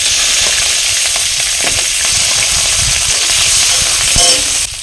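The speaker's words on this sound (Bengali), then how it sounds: "5 ফোড়ন, শুকনো লঙ্কা, তেজপাতা একটু নেড়ে চেড়ে নিয়ে গ্রেট করে রাখা আদা আর কাঁচা লঙ্কা কুচি দিয়ে দেবো" Five-spice, dried red chilli, bay leaf, grated ginger and chopped green chilli hit hot oil for vegetarian sago khichuri, giving a loud, steady hiss with occasional spatters and faint stirring knocks, close by and with no voices.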